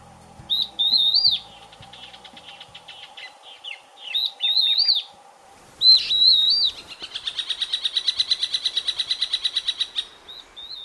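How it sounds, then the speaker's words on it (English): Birds sing in the Caatinga scrubland of northeastern Brazil: clear whistled phrases and chirps near and far, then a fast, regular trill of repeated notes, over a quiet morning background. "there are lots of birds singing"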